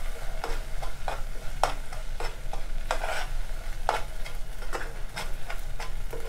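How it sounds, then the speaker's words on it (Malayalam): Apple jam is stirred in a pan over steady low bubbling, with a spoon scraping and knocking against the metal roughly every half second, close and clear with no one speaking. "രണ്ട് മിനിറ്റ് കൂടെ ഇളക്കി കൊടുക്കുക"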